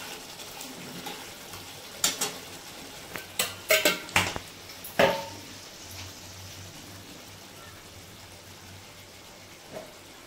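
A spoon clinks and scrapes against a pan while sugar is stirred into a potato curry made with poppy seeds and no onion or garlic, with several sharp metallic knocks close by, then quieter scraping.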